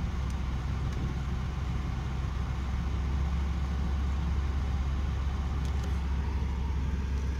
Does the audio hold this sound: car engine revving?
yes